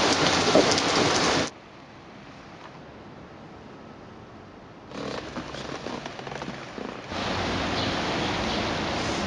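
Heavy rain pours down hard and close, a loud dense hiss that drops to a quieter patter midway before the downpour swells back up again, with no talk.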